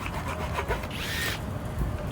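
A power drill whirring in a short burst mid-clip, running against a busy scraping, rubbing background in a workshop-like setting while a robot dog is repaired.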